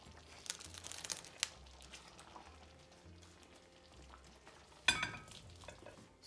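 A spoon stirs Navratan Korma sauce with coriander leaves, making soft, faint wet crinkling and scraping sounds, with one brief louder clatter near the end.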